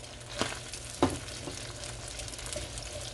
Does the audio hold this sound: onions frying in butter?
yes